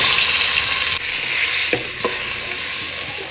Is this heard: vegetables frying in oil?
yes